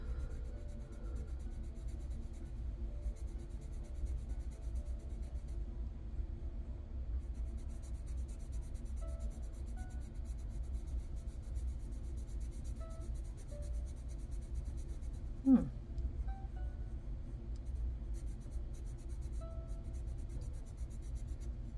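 Castle Arts colored pencils scratch across paper while swatching, a faint, steady, dry scratching that runs throughout with one brief louder bump partway through.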